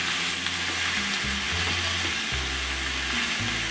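Duck pieces and vegetables sizzle and fry in a wok while being stirred, a steady loud crackle with rhythmic scraping and tossing throughout, no voices.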